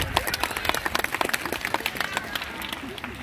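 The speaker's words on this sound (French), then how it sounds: "Très bien, vous pouvez applaudir Sue aussi." An audience applauds a demonstrator named Sue, dense overlapping claps rising and falling near at hand for about three seconds.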